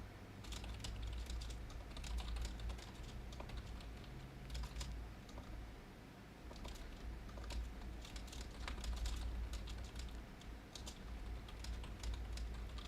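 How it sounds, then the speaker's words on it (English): Fingers type steadily on a computer keyboard during a gaming session, producing a continuous run of quick, light key clicks with occasional bursts, close and fairly soft over a constant low hum from the room or computer. "Can you guys hear my keyboard?"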